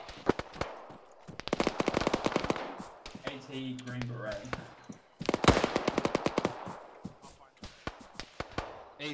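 Rapid machine gun bursts in a video game, sharp repeated shots in two main volleys with a pause between, under faint talk from players.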